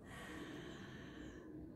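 Soft, steady exhalation through a half-open mouth, shaped like an open A vowel, during a breathing exercise for the negative-belly technique; close, quiet and airy, with no voice.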